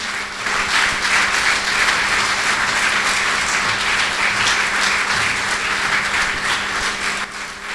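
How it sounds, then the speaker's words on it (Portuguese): An audience at a tribute event for a conductor applauds steadily, dense clapping that holds at a loud, even level for several seconds before tapering slightly at the end. "Eu ia pedir o vosso aplauso ao Dr. António Cardo"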